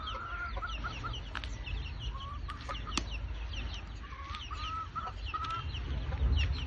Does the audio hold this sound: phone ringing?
no